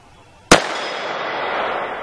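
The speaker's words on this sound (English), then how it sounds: "92. 220 grain, 300 Blackout, unsuppressed." A single unsuppressed 300 Blackout rifle shot with 220-grain ammunition: one sharp, very loud crack right after a quiet start, followed by a long, rumbling outdoor echo that fades slowly.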